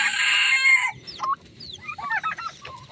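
Chickens on a small farm with a newly hatched chick, a close rooster-like call at the start followed by a run of short, chirpy clucks and peeps against faint background noise.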